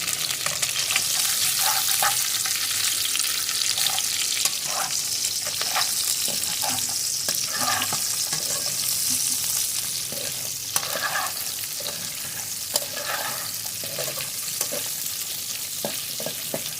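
Onion separated into petals fries in a pan for fried rice, making a loud, continuous close sizzle with stirring scrapes and crackles over it and no speech.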